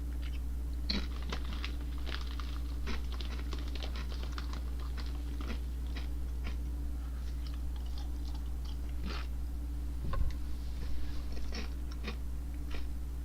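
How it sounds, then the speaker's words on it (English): Someone chews chips close to the microphone, a long run of crisp crunches and clicks over a steady background hum. "I hope you don't hear me chewing on my chips."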